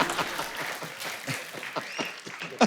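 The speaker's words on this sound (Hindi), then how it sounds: "मतलब जोरदार तालियां बनती है" Applause from a studio audience on a comedy talk show, dense steady clapping close and loud across the whole stretch.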